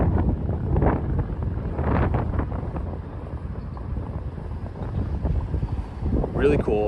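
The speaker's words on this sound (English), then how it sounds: "Man, the wind is crazy." Strong wind buffets the microphone on a Midtown Manhattan street at night, a steady loud low rumble running through the whole stretch, with a brief higher-pitched noise near the end.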